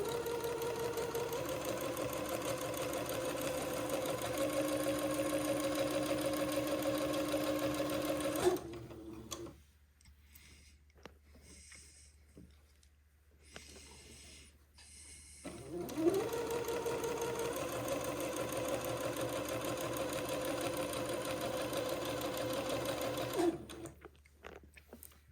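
A sewing machine runs steadily while stitching a narrow 1/16-inch French seam on a baby bubble garment, with two sustained runs separated by a quieter pause with faint handling noise.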